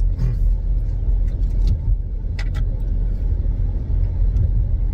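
A car cruising at about 60 km/h on a bypass road, its steady tyre roar and engine rumble filling the cabin, with a few faint clicks and taps, no talk.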